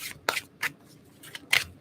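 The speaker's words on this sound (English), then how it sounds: "I want to shuffle again." Tarot cards are shuffled by hand, close and fairly soft, in several quick riffling bursts with short pauses between them and no talking.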